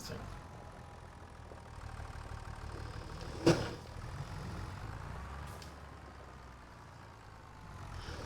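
A small tractor engine in Farming Simulator 25 drones steadily at moderate distance on a Missouri farm map, with a single sharp click partway through and a faint hiss later.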